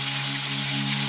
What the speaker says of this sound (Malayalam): അപ്പോൾ നമുക്ക് ഓരോ പീസുകൾ അങ്ങനെ ഇട്ടിട്ട് നമുക്ക് ഒന്ന് വറുത്തെടുക്കാം